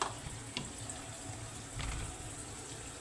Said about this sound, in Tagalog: Patayin natin tubig.